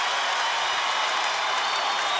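Crowd roaring and cheering at a UFC fight in Las Vegas, a steady loud wash of noise filling the arena without a break.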